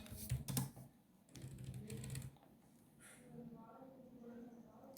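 Computer keyboard typing a MySQL query, quick bursts of key clatter heard close, with a person talking over parts of it.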